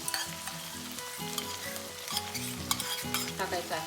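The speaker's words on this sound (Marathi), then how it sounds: "त्याला लालसर चांगलं भाजून घ्यायचं आहे." A paste with Schezwan chutney roasting in a pan for a Manchurian dish, giving a steady close sizzle with repeated scraping and stirring strokes and a low tonal hum running underneath.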